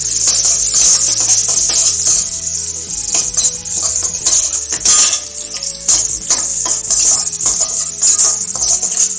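Prawn biryani masala is stirred in a pot with a metal spoon, giving a steady sizzle broken by frequent scraping clinks against the pot, close and fairly loud.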